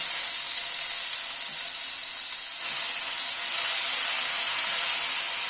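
Garlic and green chilli paste (ten to twelve cloves, two chillies) frying in a pan over a very low flame, giving a continuous soft sizzling hiss with a slight dip midway.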